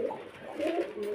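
A pair of Bali powder pigeons gives a brief, soft, rolling coo, close and clear over faint background murmur.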